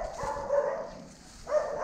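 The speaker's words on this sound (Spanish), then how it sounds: "Ahí está un perrito nomás, chiquito, bueno, una perrita y nada más" A small female dog on an empty vacant lot gives two short barks, whiny and high in tone, close by and clearly heard with a quiet gap between them.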